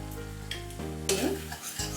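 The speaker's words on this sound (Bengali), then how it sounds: "নেড়ে চেড়ে কষিয়ে নিচ্ছি" Ground spices such as Kashmiri chili powder and coriander powder are stirred and fried in a little oil with paneer for a curry, giving a close, steady sizzle under repeated scraping stirs in the pan.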